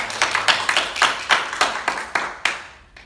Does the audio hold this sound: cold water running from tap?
no